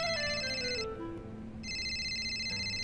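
An electronic mobile phone ringtone for an incoming call plays a bright melodic pattern, pauses briefly, then resumes, close and steady with no talking.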